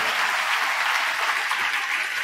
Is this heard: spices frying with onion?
no